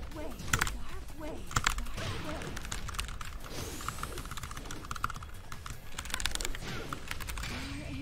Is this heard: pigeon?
no